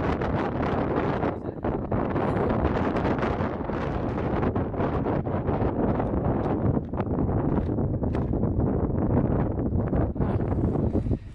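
Strong wind buffets the microphone on the open moorland of Kinder Scout in the Peak District, a loud, continuous roaring rush with gusty surges and no clear break, close and dominant throughout.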